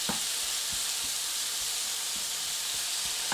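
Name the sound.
zucchini fritters frying in a pan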